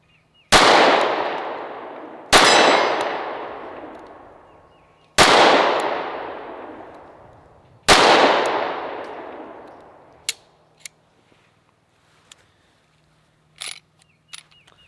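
Four loud, sharp gunshots from a SCCY CPX-2 pistol at a range, spaced a couple of seconds apart, each with a long decaying echo, followed by a few faint clicks and small handling knocks.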